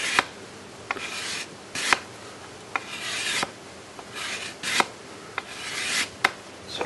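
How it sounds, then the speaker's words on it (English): An ocean spray shoot is shaved and thinned into an arrow shaft with long, even strokes, each one a dry, close rasping scrape about every second or so, with small clicks between strokes. "I'm also going to be working on thinning the entire shaft down."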